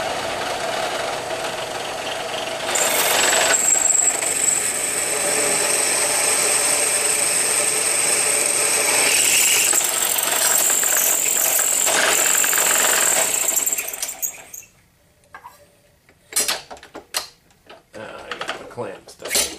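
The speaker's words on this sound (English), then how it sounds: "Now we have both pieces drilled" Steel pieces for forged crucible tongs being drilled with a drill press, a loud steady machine whine with rattling running for about fourteen seconds, then stopping and giving way to scattered quieter clanks and handling noises.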